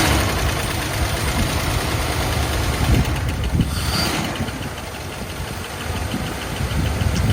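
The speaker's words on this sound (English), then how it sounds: "She sounds pretty good. She had a little lifter clicky click going." A 1980 Lincoln Continental engine turns over, catches and settles into a rough, steady idle with a light lifter ticking, loud and close, no talk.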